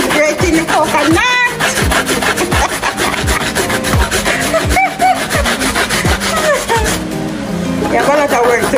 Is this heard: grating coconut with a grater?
yes